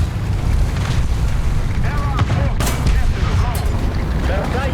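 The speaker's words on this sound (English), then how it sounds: "Those are bombs, but fortunately they're way over there." Bombs exploding at a distance in War Thunder tank combat, heavy rumbling booms rolling continuously under game noise, with a sharper blast near the middle and no speech.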